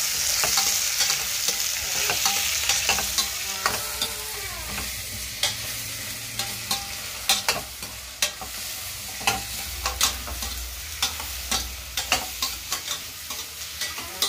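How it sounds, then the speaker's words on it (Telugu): Onions fry in a pan until deep brown for onion biryani, a steady loud sizzle broken by frequent sharp scrapes and clicks of a spatula stirring, close and without talk. "బాగా బ్రౌన్ కలర్ లోకి వచ్చేంత వరకు అయితే ఫ్రై చేసేస్తున్నాం అండి"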